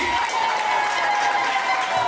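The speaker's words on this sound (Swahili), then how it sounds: "Makofi yao mzuri iko wapi?" An audience at an International Domestic Workers Day gathering claps steadily in a dense, continuous wash of applause, with a faint tonal hum and some crowd voices mixed in.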